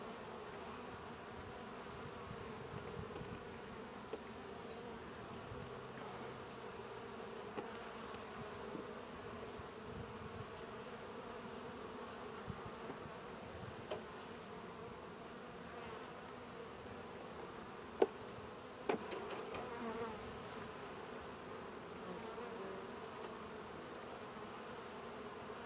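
Honey bees buzz steadily around a hive on a farm as frames are pulled, a soft continuous drone with a few faint clicks and knocks from the hive work, and no talking.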